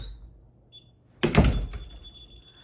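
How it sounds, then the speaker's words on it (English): A door is opened and closed during a DSC Neo alarm system test, giving a single loud thunk with a short rattling tail after a quiet stretch with faint electronic beeps. "And we will open and close a door to simulate that we left."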